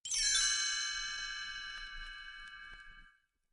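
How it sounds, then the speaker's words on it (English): A single bright chime strikes and rings out, its shimmering metallic tone slowly fading over about three seconds. "when you hear the chimes ring like this"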